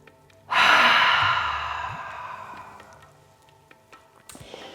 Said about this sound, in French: Et on expire par la bouche.